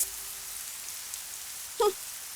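Light rain falls steadily, a soft, quiet hiss that continues throughout, with one brief, slightly louder chirp-like blip near the end.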